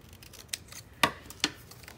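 Scissors snip through paper for a Halloween mixed-media art journal page: three sharp, close cuts at a steady pace, each one short and crisp, with a quiet room behind them.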